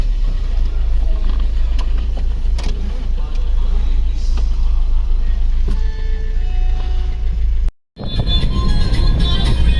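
A shared car carries passengers along a highway in India toward the Nepal border on a Kolkata–Gorakhpur–Pokhara trip. Steady, loud engine and road rumble runs throughout, breaking off briefly near the end before resuming.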